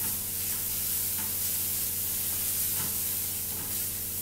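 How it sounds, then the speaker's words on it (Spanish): Chicken burger mixture sizzling steadily in a hot pan while being stirred, a loud continuous frying hiss with a few soft scraping strokes, close up with no talk. "Vamos a revolver y agregar un poco de sal"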